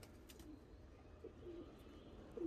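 Stock pigeons in a loft, soft low cooing from a few birds, faint and intermittent against quiet background noise.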